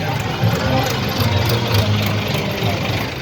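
Tractor engines idle and rumble steadily with a heavy low throb, a dense continuous drone from many tractor-trolleys in a farmers' march from Meerut, with faint crowd noise mixed in.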